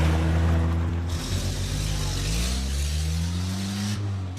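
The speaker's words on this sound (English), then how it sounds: "Stop daydreaming and start the car." A car engine runs steadily and loudly with rising and falling harmonic drone, revving as the vehicle pulls away, continuous throughout with no voices.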